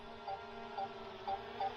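A DJI Mini 3 Pro drone's obstacle sensor beeps four times in a steady rhythm, faint short tones over a low continuous hum from the hovering drone, with no voices.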